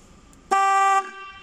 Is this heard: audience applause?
no